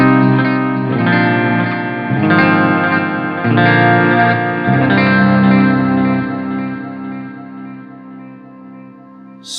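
Electric guitar through a Line 6 Helix digital delay with modulation plays sustained chords with repeating echoes, the tail bending slightly in pitch as it fades toward the end.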